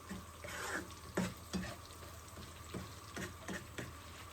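Onion frying with salt in a pan sizzles softly and steadily while being stirred, with several scraping knocks of the spatula at intervals, fairly quiet and close.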